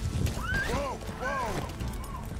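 A horse neighs in Metal Gear Solid V: The Phantom Pain, two rising-and-falling whinnies close by, mixed with hoof clip-clops and game background noise.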